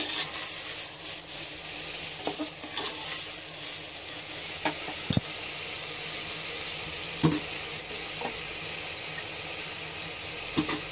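Khichdi ingredients roasting in a pan, a steady loud sizzle with occasional scraping stir strokes, close and continuous without talk.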